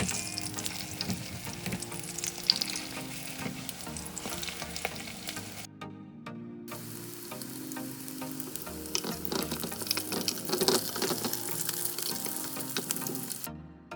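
A shrimp and vegetable pancake fries slowly in an oiled pan, with a steady close sizzle and crackle and occasional spatula knocks, broken by a brief near-silent gap partway through.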